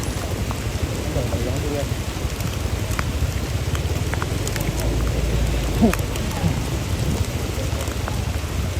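Steady, heavy rain pours throughout a funeral procession at Tongkonan Bambalu in Sa'dan Andu, a dense hiss with faint voices in the background.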